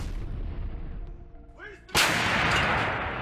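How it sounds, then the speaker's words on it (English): Russian artillery shells Ukrainian bunkers in a forest belt: a single loud blast erupts after a quiet stretch and rolls on as a heavy rumble. "Russian artillery began intensive artillery shelling in order to drive the Ukrainian Armed Forces soldiers out of their bunkers and destroy them."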